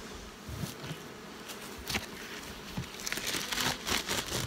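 Honey bees buzz around a small backyard hive, a close, continuous droning hum with scattered louder passes and faint crinkling.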